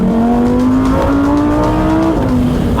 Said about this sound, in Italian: Il suono che ha comunque sto V10, mamma mia.